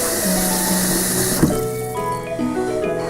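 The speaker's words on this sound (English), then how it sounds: "you have to fill it up with water all the way" Tap water runs steadily into a cooking pot for mashed potatoes, a continuous rushing fill with the pitch rising slightly as the pot fills, close and fairly loud with no talk.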